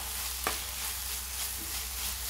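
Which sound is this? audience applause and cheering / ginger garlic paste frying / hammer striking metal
ginger garlic paste frying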